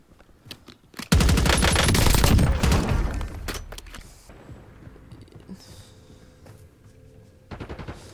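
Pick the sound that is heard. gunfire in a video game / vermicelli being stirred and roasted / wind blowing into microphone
gunfire in a video game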